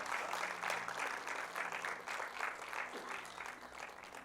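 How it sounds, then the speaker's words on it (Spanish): A church congregation claps during a worship service in a steady, rhythmic pulse of hands beating in time, with sustained music humming low underneath. "Denle un fuerte aplauso al Rey de Reyes."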